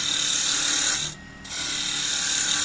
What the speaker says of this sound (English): the beauty of the spindle roughing gouge is that we can rotate it so that we've got a straight edge and we can work right up to that edge